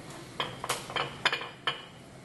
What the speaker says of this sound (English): I'm going to flip it over here.